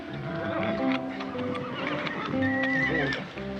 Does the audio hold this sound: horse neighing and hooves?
yes